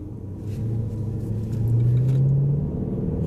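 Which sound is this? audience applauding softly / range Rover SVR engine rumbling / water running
range Rover SVR engine rumbling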